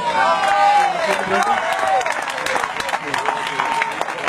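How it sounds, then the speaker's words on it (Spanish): Congregation applause during a church debate between a Catholic missionary and an evangelical pastor in Cárdenas, Tabasco: a broad wash of clapping and crowd noise with a voice rising over it throughout. "Démosle un aplauso a Dios"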